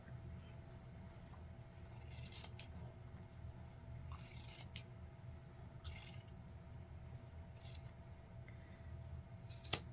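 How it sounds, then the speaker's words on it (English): Faint, sparse snips of scissors cutting fabric along the inside of a seam's stitching during garment upcycling, a few short crisp cuts spread apart over a low steady room hum. "always looking to make sure I'm not cutting the fabric that I want to keep."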